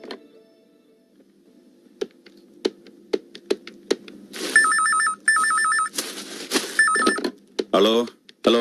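A telephone rings in a home in bursts of a trilling electronic bell, loud and close, between sharp taps and background clatter, with a voice speaking briefly near the end.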